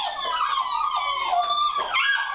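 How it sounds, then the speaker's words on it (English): Puppies yelp and howl together in a high wavering chorus of overlapping cries, loud and close, lasting throughout with no talk over it. "Puppies!"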